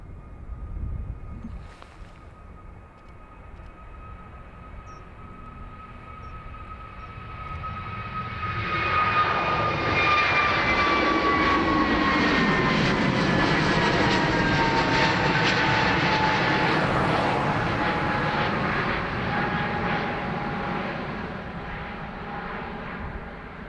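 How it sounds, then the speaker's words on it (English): A Pegasus airliner takes off from runway 28 right at Dublin Airport, its engines building from a steady whine into a loud, broad roar that peaks and then slowly fades as it departs. "Pegasus off to Istanbul next."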